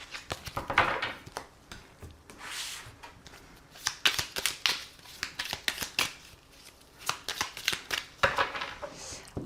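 Tarot cards shuffled and cut by hand, a rapid series of crisp riffling bursts and soft slaps repeating in uneven waves, close and fairly quiet.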